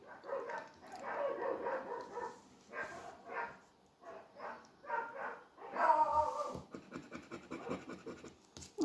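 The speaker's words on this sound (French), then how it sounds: "Les chiens des voisins, je sais pas si vous entendez." Neighbours' dogs bark repeatedly nearby, a pack of short yelping barks and whimpers in uneven bursts, with scratching sounds mixed in and no talk.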